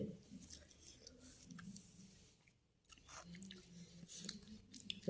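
Someone chews boiled snails cooked with fermented fish sauce, with close, soft, irregular mouth sounds and smacking that run through most of the clip and pause briefly near the middle.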